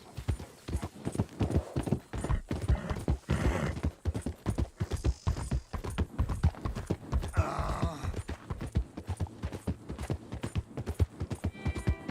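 Horse hooves in the video game Red Dead Redemption 2 clop in a steady, fast rhythm throughout, close and clear, with a brief whinny-like tone partway through.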